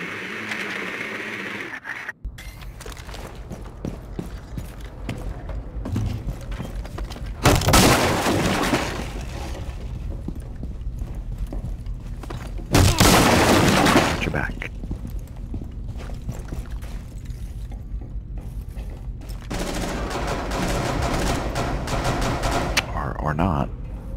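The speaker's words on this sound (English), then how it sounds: "Seriously, I'm shooting this fucking camera." Gunfire in the video game Rainbow Six Siege aimed at a camera, with loud bursts of rapid shots in several separate volleys amid scattered game noises and voices talking.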